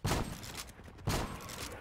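Gunfire in Black Ops 3 Zombies on a custom island map, two quick bursts of rapid shots about a second apart, fairly faint.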